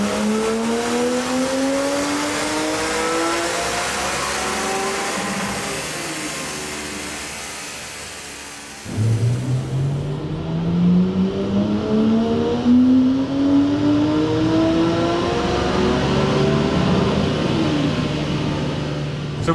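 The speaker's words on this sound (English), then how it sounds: "So we just did the first, you did the first pull." Porsche 718 GT4 engine on a dyno pull, a loud sustained roar whose pitch climbs steadily through the revs, briefly drops at a shift, then rises again toward a high-pitched wail, heard alone without talk.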